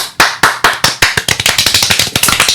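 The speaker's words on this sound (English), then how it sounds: "That clapping." Sharp claps from the video game Phoenix Wright: Ace Attorney start slow and evenly spaced, then speed up into a quick, dense patter of hand claps, loud and close.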